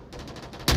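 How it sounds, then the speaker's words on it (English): Gunfire in the VR shooter Onward during a competitive Entity vs KOVRA match: a steady muffled rattle of distant shots, then a sudden loud close burst near the end. "gunshots"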